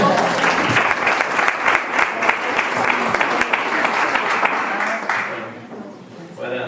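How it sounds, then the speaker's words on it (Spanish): An audience at a human rights talk on older adults applauds warmly to welcome two speakers, dense clapping sustained for about five seconds before tapering off. "lo recibimos con un aplauso a los dos."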